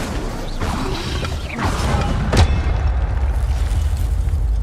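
The Incendio fire spell is cast in Hogwarts Legacy. It bursts with a whooshing crash and boom over a busy rumbling game soundscape, with one sharp hit near the middle.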